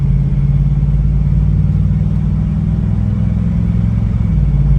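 A 1978 Chevrolet K5 Blazer two-wheel-drive running on the road, its engine rumbling steadily low and close while shifting from first to second gear, with no talking.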